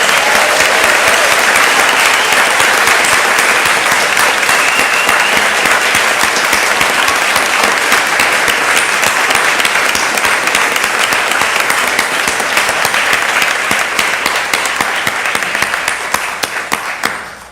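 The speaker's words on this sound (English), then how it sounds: "So let's clap to celebrate these beloveds." Long, loud burst of congregation applause during a church flower communion service, many hands clapping in a dense continuous roar for over fifteen seconds before tapering off at the end.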